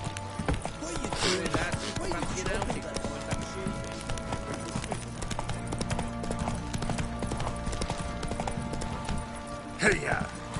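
Horse hooves clip-clopping in The Witcher III video game, a steady trotting rhythm over a constant ambient game background, with a rider's voice calling out briefly near the end.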